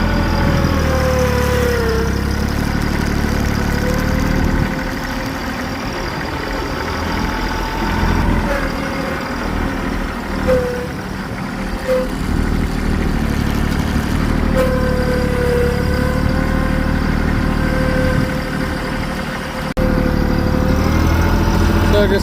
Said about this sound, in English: I just went ahead and got the tractor out